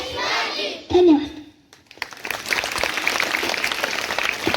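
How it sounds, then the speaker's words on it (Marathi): An audience bursts into applause after a speech about Chhatrapati Shivaji Maharaj; a short clap swell and a voice come first, then after a brief lull the clapping grows into dense, sustained applause. "जोरदार टाळ्या होत्या"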